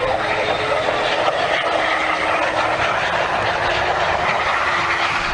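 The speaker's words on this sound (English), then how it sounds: "This is the moment of contact on the runway, shot from inside the cabin." Inside the cabin of an airliner touching down on the runway at high speed: a loud, steady, rumbling roar of engines and rolling wheels fills the space without pause.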